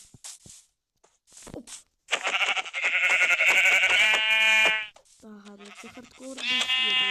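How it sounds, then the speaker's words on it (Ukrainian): A ram bleats loudly and close by in long, wavering, nasal calls, with a second shorter bleat after a pause and brief voices just before. "Баран."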